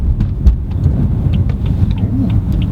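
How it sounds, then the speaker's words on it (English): A BMW M4 in its sport driving setting gives off a deep, loud, steady engine rumble from inside the cabin, with faint clicks above it and no clear talking. "Ooh, rev matches, doesn't it?"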